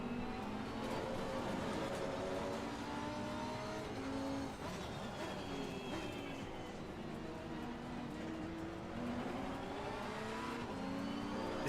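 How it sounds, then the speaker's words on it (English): Race car engines in Assetto Corsa Competizione roar and rev continuously, pitch climbing and falling through gear changes, loud and sustained with overlapping engine tones throughout. "This car sounds great"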